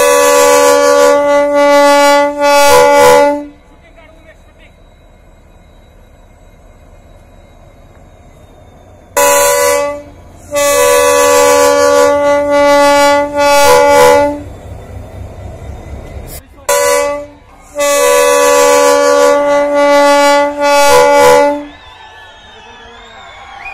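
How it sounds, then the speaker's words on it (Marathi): A special passenger train departing Pandharpur station sounds its horn in several long, loud blasts separated by quieter stretches of rumbling rolling stock. "पंढरपूर स्थानकातून 981 मजूर आणि विद्यार्थ्यांना घेऊन विशेष रेल्वे तमिळनाडूकडे रवाना झाली"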